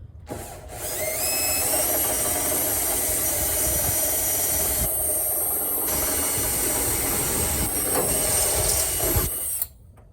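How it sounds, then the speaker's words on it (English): A power drill whines steadily for about nine seconds, loud and close, with slight pitch dips as it bites through a Toyota Tacoma or 4Runner hood while fitting hood struts. "Go ahead and drill the next one in."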